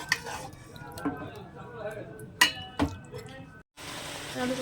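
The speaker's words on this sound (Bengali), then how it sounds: "এবার মাংসটাকে কষিয়ে নেব" Mutton stir-fried for kosha in a pan, with sizzling oil and sharp scrapes and clinks of a spatula against the metal in irregular bursts, close up, briefly cutting out before the frying resumes.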